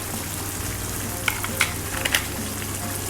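Reno pork liver spread frying in a hot pan for cheesy pork menudo: a steady close sizzle with a few sharp crackles and pops, no talking.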